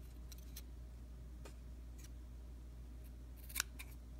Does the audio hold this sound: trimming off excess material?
yes